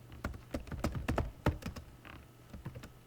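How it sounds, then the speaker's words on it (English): Quick, irregular keystrokes clatter on a computer keyboard, a close, quiet burst of taps with small pauses between clusters. "Up here I'm going to type in implement"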